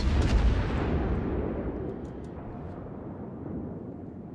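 The main guns of the battleship Wyoming fire in a naval video game, a loud close boom that rolls off into a long fading rumble with no talking.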